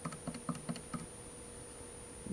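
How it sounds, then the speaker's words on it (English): Buttons on a calculator are pressed to enter values, about eight quick, soft taps in an uneven rhythm, then a pause and a short burst at the end. The setting is quiet and nobody speaks. "Then type in all the Y values."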